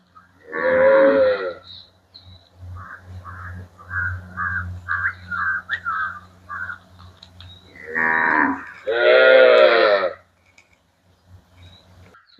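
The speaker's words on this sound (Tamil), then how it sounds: "அண்ணா சில மாடுகளுக்கு பேர் சொல்லி கூப்பிட மாடெல்லாம் பெருகுது." Cattle kept in a pen inside an army camp give three long, loud moos nearby, one early and two close together near the end, with faint bird calls in the quieter gaps.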